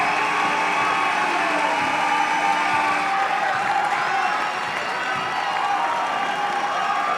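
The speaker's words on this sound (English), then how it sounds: "And a standing ovation from the crowd" A high school basketball crowd gives a standing ovation for a senior guard's 1,000th career point, sustained applause and cheering filling a gym, steady and loud with a commentator talking over it.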